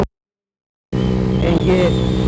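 A 50cc DF50SST motorcycle at wide open throttle, its engine droning loud and steady with a buzzing harmonic whine and wind rush, starting after a brief silence, while the rider talks briefly over it.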